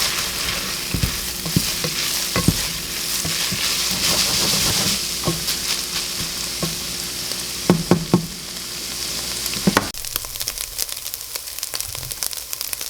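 Drained ground meat sizzles and fries steadily on a hot pan for chili, with scattered scraping stirs and sharp crackles, loud and close, without talk.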